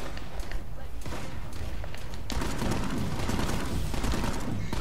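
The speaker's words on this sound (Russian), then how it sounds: "опять с пушки по нам лупят" Repeated heavy booms of cannon fire in PlanetSide 2, dense and continuous, with someone talking over the barrage.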